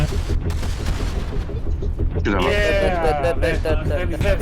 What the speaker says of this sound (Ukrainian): Стріляти, стріляти, всі стріляти.